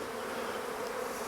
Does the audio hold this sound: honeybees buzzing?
yes